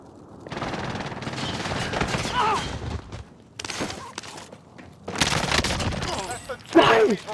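Bursts of automatic gunfire and shots in Call of Duty: Modern Warfare, loud rapid volleys in several clusters separated by brief lulls, with a voice briefly heard among them.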